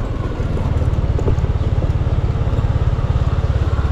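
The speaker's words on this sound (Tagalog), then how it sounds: "Motor parking." A motorcycle idling close by as it is parked at a hot market, a loud, steady low engine chug with a fast regular pulse, with no talking over it.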